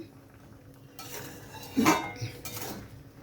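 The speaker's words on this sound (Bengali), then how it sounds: "ভালোভাবে মিশিয়ে নিচ্ছি গ্রেভির সঙ্গে" Fried fritters being mixed into a pumpkin and eggplant gravy in a pot: a few close clinks and scrapes of a metal spoon against the pot, brief and fairly quiet.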